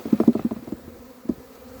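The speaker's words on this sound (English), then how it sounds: "just shake all the bees off of here" Honey bees buzz close by in a quick, pulsing drone that fades after a moment, with one more brief buzz shortly after, as they are shaken off a hive frame.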